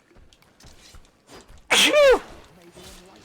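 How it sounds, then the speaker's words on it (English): A single loud, sharp human sneeze bursts out after a few moments of quiet, low speech, followed by a brief spoken reaction. "I really need to sneeze and it's really annoying"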